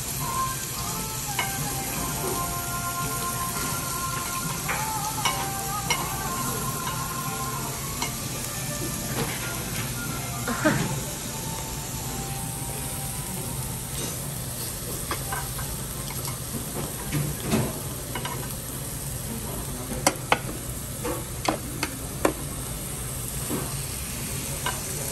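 Food fries with a steady sizzle in a pan while it is stirred, with scattered scrapes and small clinks over the continuous hiss and no talking.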